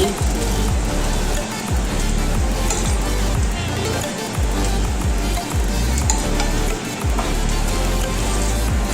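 Potato sticks fry in hot oil with a loud, continuous sizzle and crackle, steady and close throughout.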